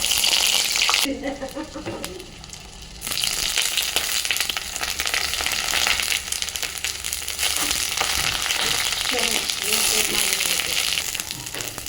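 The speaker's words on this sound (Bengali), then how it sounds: "এবার ওই তেলেতেই বেগুনগুলো দিয়ে দেবো আস্তে আস্তে" Eggplant pieces frying in hot oil, left from frying onions, fill the clip with a loud, steady sizzle and crackle, briefly dipping before surging again as the pieces go into the pan.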